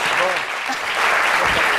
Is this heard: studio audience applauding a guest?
yes